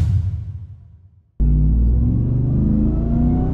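A 2023 Ford Raptor R truck engine decays to near silence, then abruptly roars up loud and steady, a deep revving rumble with a rising supercharger whine layered on top.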